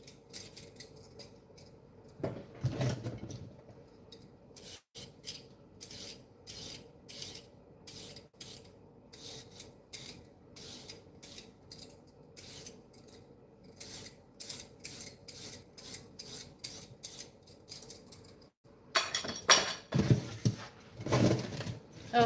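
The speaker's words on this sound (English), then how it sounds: "I need to scrape the carrot now" Carrot being scraped with a knife in a home kitchen, a long run of quick rhythmic rasping strokes, close and fairly loud, with brief pauses between bursts and no talking.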